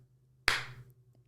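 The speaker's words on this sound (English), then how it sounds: "I'm clapping for me." A single sharp hand clap rings out close and loud in a quiet room, its decay trailing off over about half a second against a low steady hum.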